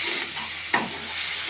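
Gandhal leaves fry in a pan, a steady close sizzle broken by one sharp clack of a spoon stirring midway, then the hiss carries on alone.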